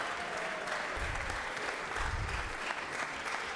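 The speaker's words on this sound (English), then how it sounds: "Let's give them a round of applause." Steady, even applause from an audience fills the Georgia Senate chamber for a few seconds, a dense patter of clapping without voices.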